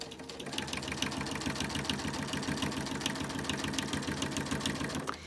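A sewing machine stitches binding along the edge of a quilt, its needle chattering in a rapid, even mechanical rhythm, close and steady throughout.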